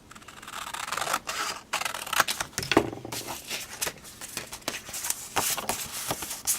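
Paper being cut by hand for a homemade greeting card, with a run of close, soft scraping and rubbing strokes coming in uneven bursts, and no talking.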